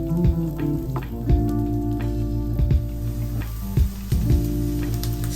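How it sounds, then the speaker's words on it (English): Onions sauté in a very hot pan, crackling and sizzling close up, with a low steady hum and several sharp knocks from stirring the pan at irregular moments. "Saute onions."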